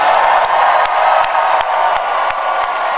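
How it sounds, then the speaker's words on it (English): A large campaign rally crowd cheers and claps for first-time voters, a broad continuous roar with scattered whoops and sharp claps, loud and sustained across the whole span. "Can we all applaud our first-time voters?"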